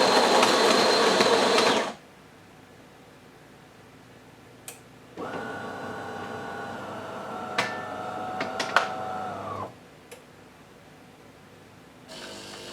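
A DeLonghi Magnifica S ECAM 22110B espresso machine grinding coffee beans after warming up, a steady mechanical whir with a buzzy tone that runs a few seconds before cutting off, between louder bursts of machine noise.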